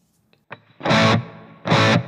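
Distorted electric guitar through a reverb preset plays two loud chord bursts, with a faint tail ringing on after the first one.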